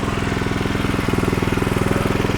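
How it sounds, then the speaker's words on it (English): Honda GX200 petrol engine driving a 2700 psi pressure cleaner, running with a fast, even pulsing chug, close and fairly loud, with no pauses. "Honda GX200"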